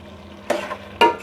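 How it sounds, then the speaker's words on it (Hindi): Aloo gobi gosht curry of potato, cauliflower and meat being stirred and fried in a pan, giving two short, sharp scraping bursts over a faint low sizzle, close and fairly loud, with no talking. "बस इसको 1-2 मिनट भून लेते हैं और फिर उतार लेते हैं।"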